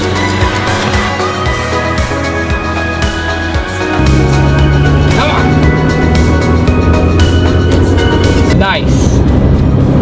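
Honda Civic EF with a new clutch and redone suspension out on a test drive, a loud steady engine and road drone with cabin rattles and bumps, under someone talking.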